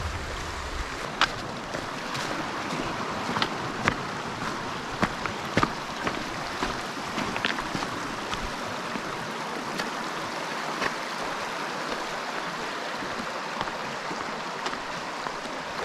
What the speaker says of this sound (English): This stream is super pretty.